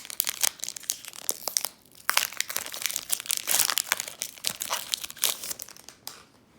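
A Champion's Path Pokémon card booster pack's foil wrapper is torn open and crinkled up close, with bursts of sharp crackling and rustling over several seconds.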